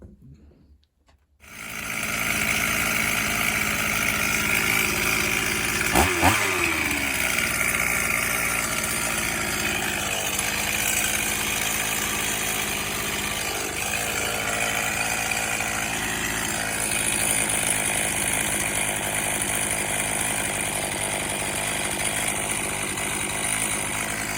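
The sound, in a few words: STIHL MS440 chainsaw starting, running and idling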